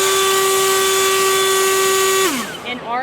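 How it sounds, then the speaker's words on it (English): A typical leaf blower runs with a steady high-pitched motor whine and strong tonal hum, then spins down as the pitch drops and fades. "So you're listening to a typical leaf blower."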